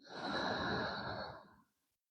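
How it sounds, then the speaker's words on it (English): One long, deep exhale through the nose during a beginner yoga warm-up on a mat, soft and breathy, swelling then fading into silence. "Just centering ourselves on the mat by taking a few deep breaths in and out."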